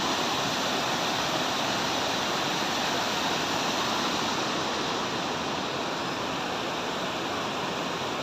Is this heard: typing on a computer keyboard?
no